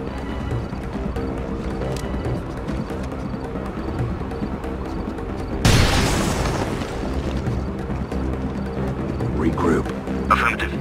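Grenade explosion in Rainbow Six Vegas inside the Calypso Casino, a single sharp boom that bursts out midway through steady background game noise, with speech around it.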